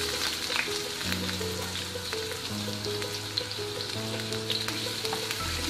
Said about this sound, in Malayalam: എണ്ണ ചൂടായിട്ടുണ്ട്, നമുക്ക് ഉള്ളി ഇട്ട് കൊടുക്കാം